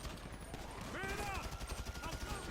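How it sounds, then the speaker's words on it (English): Rapid gunfire bursts in GTA V as a player shoots at police officers, dense overlapping shots over game ambience and a faint voice. "I can now shoot these cops over here."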